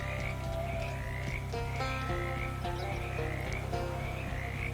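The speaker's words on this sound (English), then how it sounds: "The frogs are talking." Frogs croak in the video game Shadows Over Loathing, a steady rhythmic chorus of repeated croaks, fairly faint, over a low continuous background tone with no voices.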